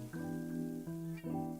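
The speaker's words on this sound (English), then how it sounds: "Oh my god, cat." A cat meows close by in a couple of long, tonal, slightly whiny calls, the second rising at its start, with a low hum underneath.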